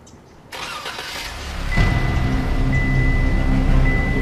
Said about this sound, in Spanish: Enciendo el auto.